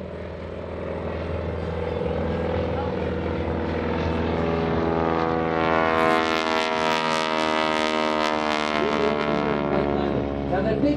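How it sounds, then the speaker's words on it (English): A propeller airplane drones overhead at an air show wingwalking routine, its engine and prop noise building and sweeping in pitch as it passes close by, loud and continuous. "Most of the noise in a propeller airplane comes from the propeller."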